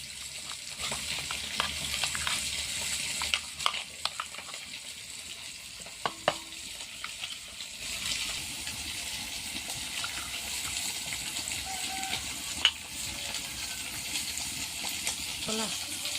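Fish in mustard paste fries in a pan with a steady, moderate sizzle and hiss, broken by occasional clicks and scrapes of stirring; the sizzle continues without a break.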